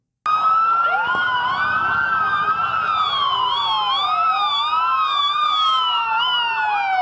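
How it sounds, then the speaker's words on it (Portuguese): Several fire engine sirens wail and overlap as the trucks head toward the burning Twin Towers of the World Trade Center on September 11. The sirens are loud, sweeping up and down steadily throughout, with no talking. "Você está vendo aí os carros do Corpo de Bombeiros, eles estão se dirigindo às Torres Gêmeas."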